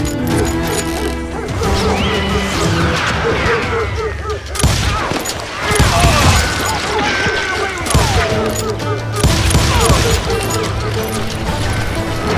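Heavy gunfire in the Western shooter game Call of Juarez, loud bursts of shots and crashing impacts coming in waves, with shouting voices between the volleys.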